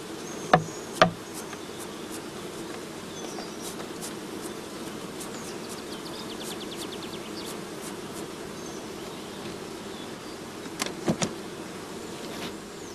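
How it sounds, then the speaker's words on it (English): Honeybees shaken and brushed off comb into a funnel above a swarm box give a steady, close insect hum, broken by two sharp knocks early on and a few more near the end. "Shaken or brushed into the funnel, the bees fall into the swarm box underneath."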